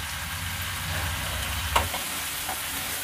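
Egg keema masala with salt stirred in a pan, a continuous low sizzle with one brief scrape of the spatula partway through, close and fairly even.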